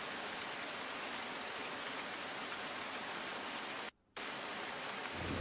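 Heavy monsoon rain pours steadily over waterlogged Surat streets, a dense continuous hiss with a brief near-silent break before the downpour resumes.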